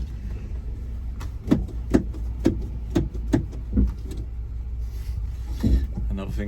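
A crashed Mk1 Honda CR-V drives on the road with a low, steady engine and road rumble, and a series of sharp knocks or clunks repeats over it at close range.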